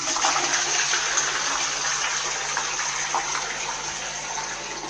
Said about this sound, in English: Flush, it's automatic.